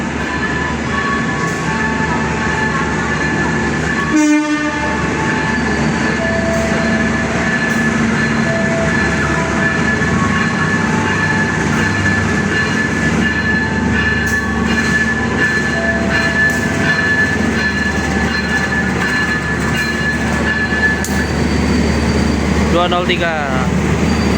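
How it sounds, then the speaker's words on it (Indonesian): A passenger train's generator car rumbles steadily past at close range, with a continuous drone, faint hum and a brief squeal of metal near the end. "Wah, ada kereta pembangkit ternyata."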